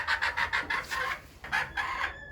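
Chickens cluck repeatedly at close range inside a coop, a quick run of clucks that breaks off for a moment and then starts again, with no voices.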